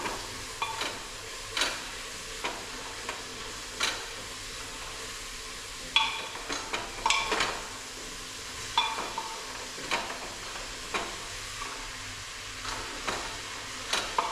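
Four chopped onions sizzle in a hot pan while a utensil scrapes and stirs them in irregular knocks, steady frying hiss underneath, close and fairly quiet with no talking.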